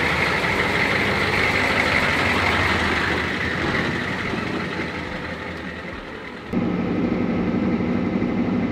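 A 1983 Ford F350 Bullnose truck's engine runs steadily throughout, a continuous broadband rumble with road and cabin noise, dipping slightly before a sharp shift near the end to a deeper, steadier drone.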